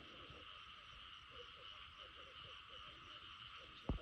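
Frogs croaking at night on a frog-hunting outing, a steady, dense chorus of calls running throughout at a moderate distance, with a sharp thump right near the end.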